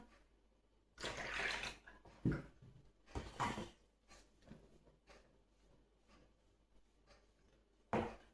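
Water is poured in a few short, splashy bursts, with quiet stretches between each pour.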